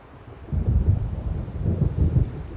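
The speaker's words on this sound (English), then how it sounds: "It seems there's a storm coming." A storm approaching in the video game Alan Wake Remastered brings deep, rolling thunder that swells in two low rumbling waves, near and heavy, with no voices.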